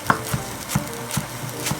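A knife slices rolled-up spinach on a cutting board, four or five crisp close chops at an even, unhurried rhythm with no talk.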